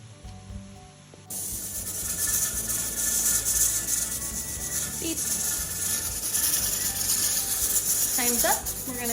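A pressure canner holding jars of char siu pork, its weight jiggling on the stovetop, gives a steady, close hiss with a faint rattling flutter that runs on without a break.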